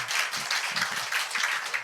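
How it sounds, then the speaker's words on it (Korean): A church congregation claps together in a brief, even burst of applause, the patter filling the room at moderate loudness. "박수 쳐도 괜찮으세요?"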